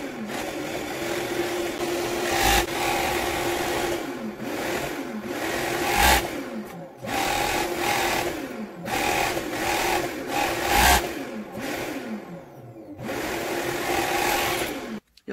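Overlock sewing machine stitching a see-through blouse made from hanbok fabric, a close, fast steady whirring hum running in repeated bursts with brief pauses and small changes in speed as the fabric is guided, no talk.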